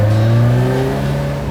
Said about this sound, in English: The turbo spooling up, it's old school, right?